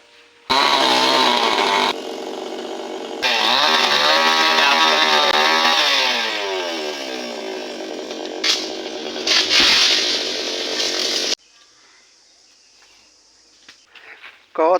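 A chainsaw cuts into a rotting coconut palm trunk, loud and close, holding a steady high whine with speed changes as it bites the wood, then stopping, followed by quiet with faint voices.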